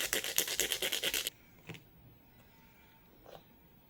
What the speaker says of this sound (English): Let's try to clean the base as much as we can. Whatever you can use to scrape off the rust.